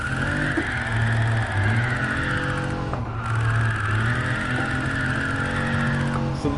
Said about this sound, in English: So the key to drifting is maintaining revs.